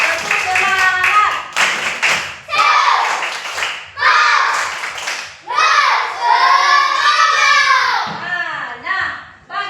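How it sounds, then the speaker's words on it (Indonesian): A class of children claps a rhythmic cheer pattern in bursts, the claps landing in quick groups between loud shouted chanting from the kids. "Tepuk semangat."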